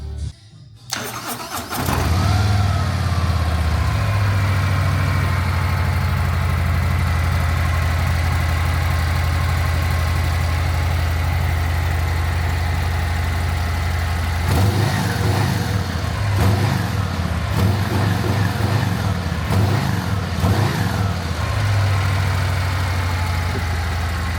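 A 2024 Harley-Davidson motorcycle with a Screaming Eagle aftermarket exhaust fires up into a deep, steady idle, then is revved several times in quick bursts before settling back to a throbbing rumble.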